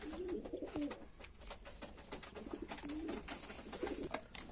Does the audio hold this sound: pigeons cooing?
yes